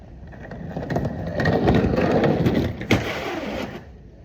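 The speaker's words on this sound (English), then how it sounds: "My suitcase rolled away." A suitcase rolls away down a steep outdoor slope, its wheels making a rising rumbling clatter that swells, carries on with one sharp knock near the end and then fades. Nobody speaks.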